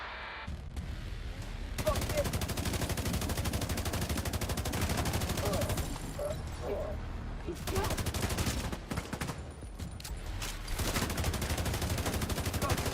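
Gunfire in The Division 2, dense sustained bursts of rapid automatic shots filling the scene with brief lulls, while a player talks over the action.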